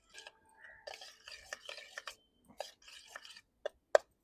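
A spoon stirs spices together in a bowl before eggs are added for an omelette. Soft scraping and irregular clinks are heard close up, ending in a couple of sharper taps on the rim.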